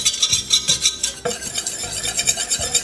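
A thick flour and butter roux for mac and cheese is stirred and spread around the pan. Close, continuous scraping and swishing of the utensil runs throughout, with a faint sizzle underneath and no voices.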